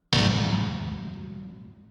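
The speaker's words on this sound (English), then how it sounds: "So that's the kettle lid being slammed down." A metal kettle lid slammed down for sound-design use, with one sharp loud impact followed by a long ringing, slowly decaying metallic resonance, close and alone.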